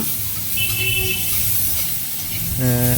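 Onion and garlic with radhuni spice frying in hot oil in a village kitchen, a steady broad sizzling hiss that holds throughout, loud and close, with a brief tonal clatter near the end.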